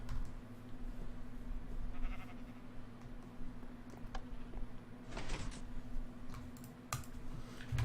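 A sheep in a Diablo-themed video game gives a faint bleat among quiet ambient clicks and soft scuffling sounds, with a low steady hum underneath.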